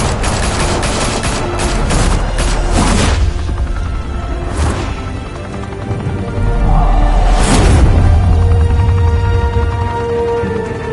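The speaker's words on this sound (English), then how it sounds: "Open fire!" Gunfire in a Batman video game, dense rapid bursts of shots and booms layered with whooshes, loud and continuous, building again toward the end.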